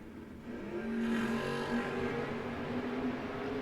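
A Camaro and a Ford drag race car revving at the starting line, a throaty engine drone with a rising then steady pitch, moderately loud at a distance.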